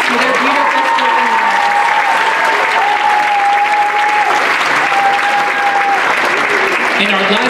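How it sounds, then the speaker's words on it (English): An audience at a live spoken word event applauds loudly and continuously, with a voice addressing the crowd over the clapping. "Please give another round of applause for our artists"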